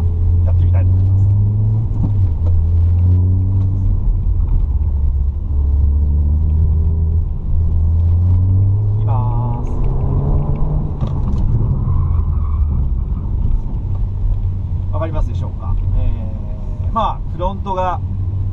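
Suzuki Swift driven at the limit into understeer, with steady close engine rumble and shifting harmonic tones as revs rise and fall, under continuous talking throughout.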